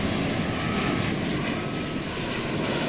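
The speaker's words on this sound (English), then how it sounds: "A flight which more often than not comes in over on the east side." A passing airliner over DFW Airport, a loud continuous broadband engine roar sustained throughout, close and steady with no voices.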